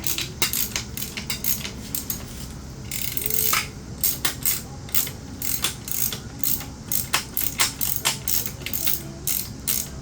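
A ratchet working a 16mm bolt loose on a 1978 Yamaha XS750 motorcycle, rapid bursts of metallic clicking with short pauses and clinks of tools, close and loud.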